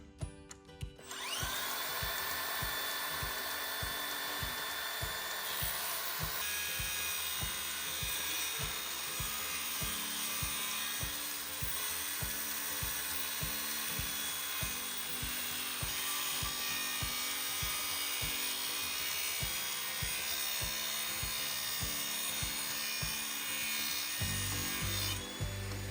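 A hand saw cuts steadily through wooden boards for a DIY barn floor, rapid rhythmic rasping strokes continuing close and alone for the whole stretch.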